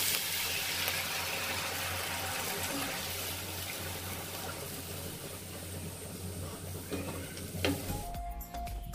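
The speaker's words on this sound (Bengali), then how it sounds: "এরপরে আমি অ্যাড করে দেবো জল।" Water is poured into a pan of fried spices for a pomfret fish curry, giving a steady, loud rushing and sizzling wash that fades near the end, followed by a faint clatter.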